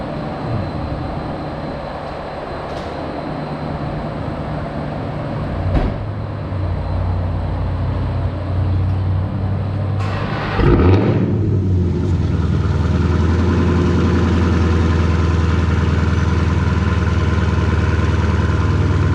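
A stage 1 Dodge Challenger Hellcat with a 2.85 upper pulley running a pull on a dyno, a loud, steady engine drone that swells into a heavier, fuller roar partway through, close and without talk.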